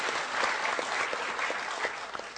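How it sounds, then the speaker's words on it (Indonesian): Steady applause from an audience at an Islamic religious talk, moderately distant, with dense clapping sustained for a couple of seconds. "Tepuk tangan semuanya,"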